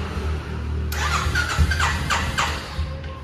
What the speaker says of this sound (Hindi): ये भी स्टार्ट नहीं हो रहा